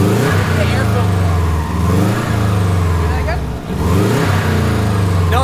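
A Subaru WRX engine revs hard, rising and falling twice with a brief dip between, heard loud and close with fluttering turbo texture over the strong engine drone.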